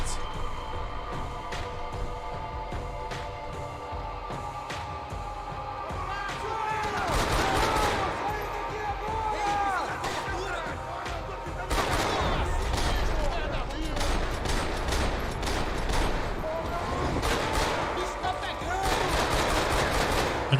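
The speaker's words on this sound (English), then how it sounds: "Didn't even get in before we started getting shot at." Gunfire in Max Payne 3, with sustained automatic bursts and scattered shots rattling through a twenty-second firefight. The shooting grows denser and louder in waves, and game character voices speak in between.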